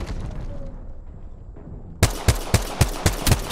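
Rapid automatic gunfire from a battle in Apex Legends bursts in abruptly after a quiet stretch, a run of about seven sharp, loud shots in quick succession with no voices.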